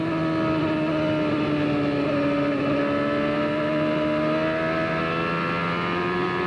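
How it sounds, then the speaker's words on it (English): A 1995 CART race car engine at New Hampshire howls steadily throughout, loud and close, its pitch dipping and rising slightly as the driver feathers the throttle on and off. "Clearly here, Gordon play with the throttle. He's on, off, on, off."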